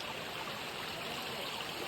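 A flowing stream rushes in a steady, continuous wash of water, close and even throughout with no voices.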